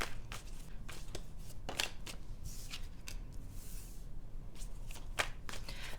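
Tarot cards being drawn and shuffled by hand, a run of crisp papery flicks and riffles scattered through the clip, fairly close, with no talk.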